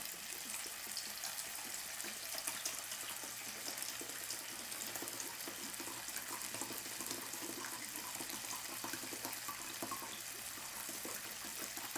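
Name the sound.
tap water running to fill cups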